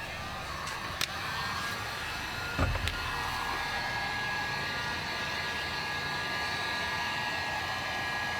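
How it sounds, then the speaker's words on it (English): A heat gun flashes fresh paint on a wheel of a 1970 Pontiac Grand Prix, giving a steady, close, dryer-like blowing roar that runs unbroken throughout, with a brief thump near the three-second mark. "Got my heat gun, going to do a little flash on it."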